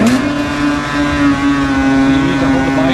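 A motorcycle wheel spins a roller on a sinter brake pad bedding-in machine under braking, giving a steady, loud mechanical whine with a constant pitch that holds through the whole stretch.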